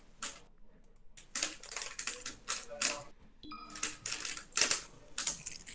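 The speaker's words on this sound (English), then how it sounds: "typing an essay in the background" Keys on a computer keyboard clatter in quick, uneven bursts while someone types an essay, with short pauses between runs and no voices over it.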